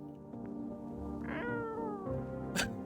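A video-game cat gives a string of drawn-out meows with rising and falling pitch over a steady hum of in-game background sound, ending in a sharp, bright cry.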